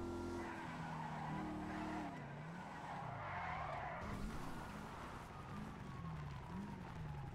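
A car in the video game GTA 5 driving in circles, its engine droning and rising and falling in pitch while the tires squeal and skid continuously, close and steady throughout.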